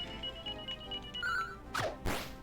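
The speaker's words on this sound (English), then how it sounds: "That was my phone going off." A mobile phone goes off with a bright electronic ringtone repeating over quiet game music, followed by a couple of sharp swishing sweeps, loud and close, no talking.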